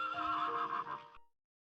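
A wild horse in the Nevada high country gives a single loud, close whinny lasting about a second, with a rising and falling tone before it ends abruptly in silence.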